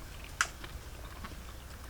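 Crunchy pig testicles chewed up close, a single sharp crisp bite followed by faint, soft mouth sounds over low background hum.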